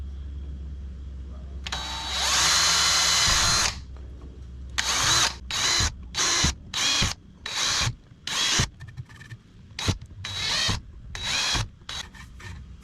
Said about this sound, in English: me drilling holes is gonna create some airflow